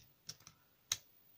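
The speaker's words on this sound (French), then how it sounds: "Donc là, je coupe tout." Paper being cut for a hand-made flip book, three quiet crisp snips spaced apart, close and faint, with no voices.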